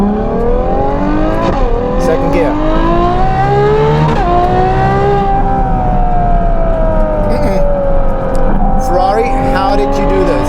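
A Novitec-tuned Ferrari 12Cilindri V12 screams up through second gear toward the limiter, loud and close with rising, falling and climbing engine pitch as speech runs underneath.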